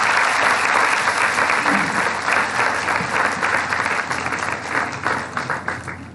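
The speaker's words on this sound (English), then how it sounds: "please give a big clap for him" Sustained, dense applause from an institute audience welcoming a speaker at an India–Japan event, loud at first and thinning slightly toward the end, with a few voices faintly underneath.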